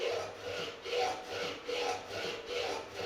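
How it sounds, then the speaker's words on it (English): A file rasps back and forth over fret ends on a cookie-tin ukulele, about six even rhythmic strokes, close and fairly quiet, with no voices. "usually the tone changes when you've done it enough and you get down to actually start filing the wood"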